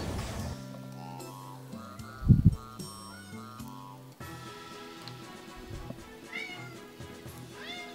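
A cat meows a few times, fairly close, over steady stepped background music from a video game, with a louder low thump partway through.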